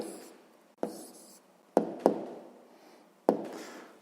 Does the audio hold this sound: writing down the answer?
yes